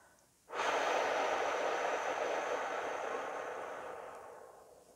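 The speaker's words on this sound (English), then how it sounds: "Exhaling now." A slow, steady exhaled breath during a guided meditation, one long airy rush that starts suddenly and gently fades over about four seconds, close and with no talk.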